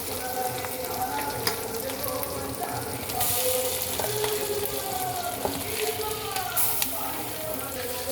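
Marinated chicken fries in a pan, a steady close sizzle with clattering stirring and scraping on top and a few sharp clinks, continuous and fairly loud, with no talking.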